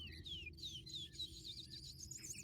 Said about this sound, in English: The occasional field sparrow